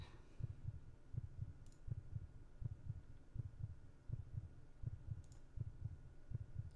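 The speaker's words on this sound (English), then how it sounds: "Heartbeat. Eerie." Steady heartbeat effect from a horror game, a regular stream of low, soft double thumps at an even pace with a faint hum underneath and no voices.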